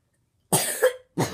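A person coughs twice in quick succession, close to the microphone, with a short raspy tail after the first cough, against otherwise silent surroundings.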